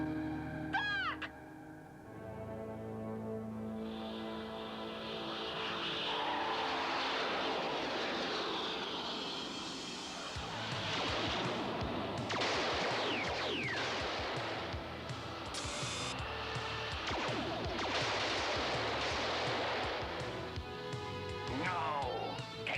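Aircraft engine drone from an animated action series, a sustained roar with rising and falling whooshes under shouted dialogue, music and scattered effects, loud throughout.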